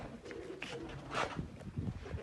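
Pigeons coo softly in low, throaty bursts against a faint background hum.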